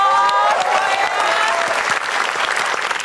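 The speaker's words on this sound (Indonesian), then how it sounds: "kita berikan tepuk tangan dulu dong" Studio audience at a comedy quiz show bursting into loud applause, a thick continuous roar of clapping with faint cheering and some voices mixed in underneath.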